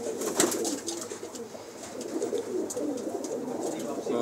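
Pigeons in a fancier's loft coo steadily at close range, soft repeated calls layered over a busy, continuous background with occasional voices nearby.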